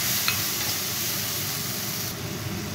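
Cumin paste and turmeric sizzle in a hot pan with green chillies, a dense, steady frying hiss with faint stirring scrapes throughout, close and fairly loud.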